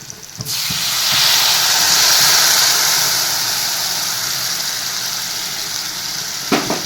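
Tomato fried with white and black mustard, ginger and green chilli paste bursts into a loud, steady sizzle in the pan, hissing strongly for several seconds before easing slightly, with a clink at the end.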